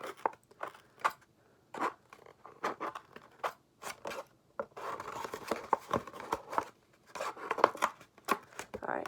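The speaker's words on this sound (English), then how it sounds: "I'm just going to fold it a little bit so that I can make a cut in the middle." Scissors cut through a folded paper plate in a quiet room, making a series of close, crisp snips and crunches at irregular intervals.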